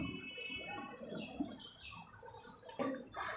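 Water trickles and splashes softly into a bowl of dhokli dough ingredients, faint and close, with a couple of small clinks near the end.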